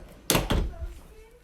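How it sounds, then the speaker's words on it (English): A door shuts nearby with two quick heavy thuds in close succession, followed by a brief faint rattle as it settles. "I'm gonna shut the door."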